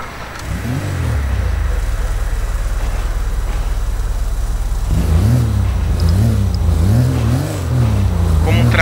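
A car engine in GTA 5, fitted with an engine sound mod and heard from the first-person in-car view, drones steadily and then revs up and down in repeated rising and falling waves, loud and close.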